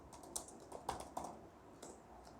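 Faint, close typing on a computer keyboard, a handful of light, irregular key clicks spread over a couple of seconds against quiet room noise.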